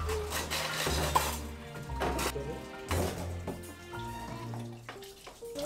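Tap water runs steadily while dishes are washed at a family campsite cabin in Nasu Kogen, with faint clinks of dishware and background music playing throughout.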